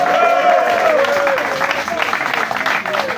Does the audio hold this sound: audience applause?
yes